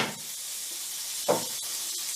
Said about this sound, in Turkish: Tost ekmeklerini yağda kızartacağız.